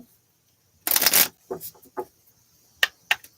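A quick riffle of cards being shuffled, followed by a few soft taps and snaps as the deck is squared up, close and otherwise quiet.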